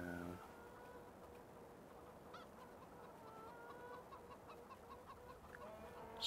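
Chickens cluck steadily in the Farming Simulator 2015 video game, a soft, continuous barnyard murmur with a few sharper calls breaking through, heard alone without any talk.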